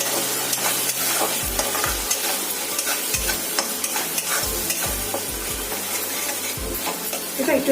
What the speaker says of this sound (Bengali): 1 মিনিটের মতো এটা আমি কষবো